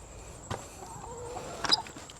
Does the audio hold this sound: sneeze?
no